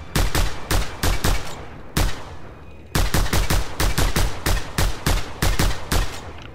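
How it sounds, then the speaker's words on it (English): Rapid bursts of automatic gunfire in the video game Just Cause 2, loud and close, coming in repeated clusters of shots with a short gap partway through. "How many times do I have to shoot this thing?"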